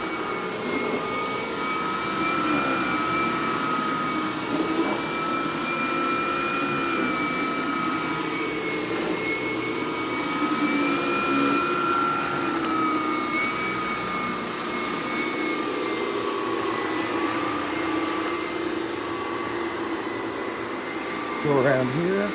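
Vacuflo central vacuum system with a powered carpet head runs continuously over carpet, a loud steady whine with a high tonal hum and airy rush, the brush shifting slightly as it is pushed around; a voice speaks faintly at times.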